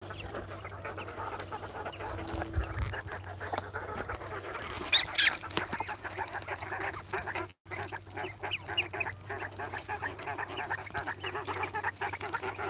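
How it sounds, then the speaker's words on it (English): Birds in a quail aviary inside a greenhouse make a busy chorus of clucks and chattering calls at close range, with a steady low hum underneath. "But this is the quail aviary."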